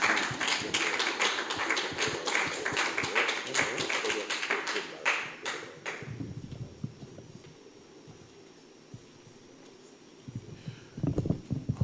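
Lecture audience claps steadily in a hall after an academic talk, dense applause for about six seconds that then stops abruptly, leaving quiet room noise and a brief murmur near the end.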